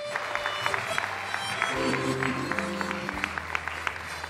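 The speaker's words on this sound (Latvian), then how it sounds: "Sagaidām komandu ar aplausiem uz skatuves saņemt balvu." An audience at an award ceremony applauds as a team comes up to the stage: sustained clapping from a crowd, fairly close and steady, with low murmuring voices underneath.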